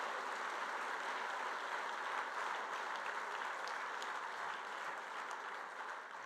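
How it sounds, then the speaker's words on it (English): Applause from a luncheon audience, a steady wash of many hands clapping at moderate distance, even and continuous throughout before tapering slightly at the end. "Another massive round of applause for Shan Liu."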